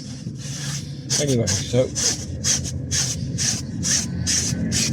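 Upholstery cleaner spray gets worked into fabric with a cloth, a rhythmic series of loud rasping rubs repeating about twice a second after a brief spoken phrase.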